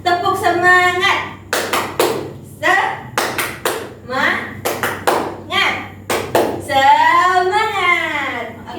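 A classroom group claps the 'tepuk semangat' ice-breaker rhythm in quick bursts of sharp, close hand claps, alternating with a teacher and students talking and chanting between the clapping patterns.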